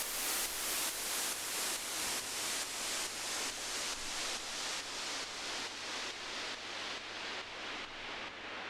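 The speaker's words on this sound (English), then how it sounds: "Sweeps, like white noise sweeps up and down." Hissing white noise pulses rhythmically while its bright top end gradually falls away, a steady downward sweep with no voices.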